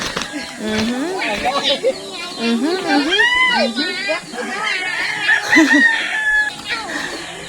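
Chickens cluck and squawk repeatedly nearby, with a rooster-like call among them, over a continuous busy background.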